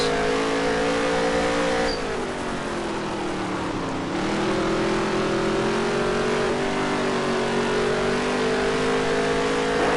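Race cars accelerating in the NASCAR Heat 3 video game: a loud, continuous engine drone that holds steady, dips around the midpoint and then climbs again as the pack speeds along, with no talking over it.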